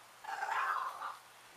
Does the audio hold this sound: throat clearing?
no